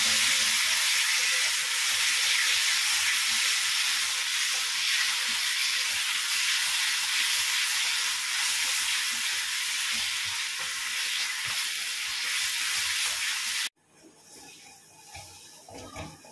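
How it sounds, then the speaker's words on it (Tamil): Ginger garlic paste sautés in hot oil in a pan for mushroom gravy, producing a loud, steady hiss of frying that runs unbroken for many seconds, then drops abruptly to quiet, faint clatter. "இஞ்சி பூண்டோட பச்சை வாடை போகிற அளவுக்கு நல்லா வதக்கி விட்டுக்கலாம்"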